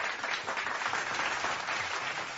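Canned crowd applause fired from a soundboard, a steady dense wash of many hands clapping at even volume for a couple of seconds, with no voices over it.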